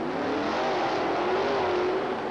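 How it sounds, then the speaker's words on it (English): A rear-engine Chevrolet monster truck racing at a 1991 USHRA event in Roanoke, its engine roaring loud and steady as it accelerates and holds a high-revving pitch. "That'll bring up Ken Deppy's beautiful Whiskey Business rear-engine Chevrolet."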